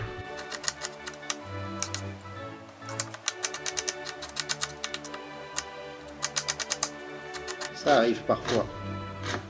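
A knife coarsely chops onion on a board for chili con carne, with rapid irregular taps that cluster into quick bursts and continue under a short spoken remark.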